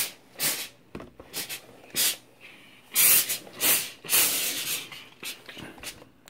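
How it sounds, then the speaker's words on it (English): Repeated bursts of hissing steam from a portable handheld garment steamer brush, each lasting under a second, coming in uneven pulses close by with brief quiet gaps between them. "A lot of steam."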